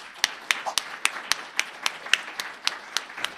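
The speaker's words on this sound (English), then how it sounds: "Let us all give Dan Ingalls a cheer" An audience applauds a computing pioneer at a conference interview with Alan Kay, the claps ringing out as sharp, evenly spaced, fairly close strokes that keep a steady rhythm throughout.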